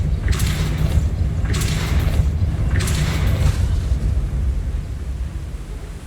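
Three forceful whooshing blasts of the Depulso force spell in Hogwarts Legacy, spaced about a second apart over a steady low rumble of game ambience, loud and close with no talking.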